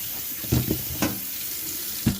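Tap water runs steadily over vegetables being washed in a sink, a continuous hiss broken by a few brief splashes and clunks as the produce is handled close by.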